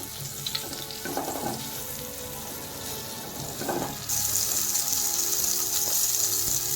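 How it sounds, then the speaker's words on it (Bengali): Cauliflower frying in oil in a pan while cooking a rohu fish curry, a steady sizzle with occasional stirring scrapes that swells brighter and louder midway, close up, with no speech. "ফুলকপিটা ভালো করে ভেজে নেব।"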